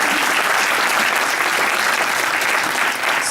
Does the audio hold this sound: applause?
yes